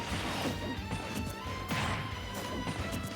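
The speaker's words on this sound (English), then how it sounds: "The sound of down tilt is so funny. It's like a wet noodle." Attack impacts in Super Smash Bros. Ultimate, including a down tilt hit, heard as a series of sharp smacks and crashes scattered over steady game noise, with no voices.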